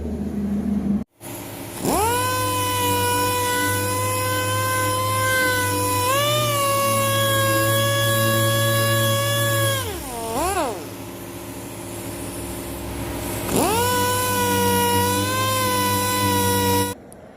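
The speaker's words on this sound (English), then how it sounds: "And then we're going to machine sand it all with 180, use some filler to fill it." An orbital machine sander working 180-grit paper over a Ford Explorer rear bumper, a loud steady whine close by that dips and swells in pitch as pressure changes, briefly stopping and restarting.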